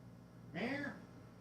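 A single drawn-out cat meow, close by, rising then falling in pitch over a faint steady hum.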